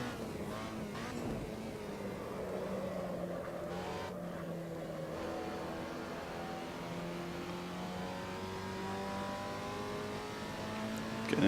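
Alfa Romeo 125 engine in the Assetto Corsa racing game, climbing a hill at the Nordschleife in third gear, a steady strained drone with rising and falling pitch sweeps, loud and continuous with no talk.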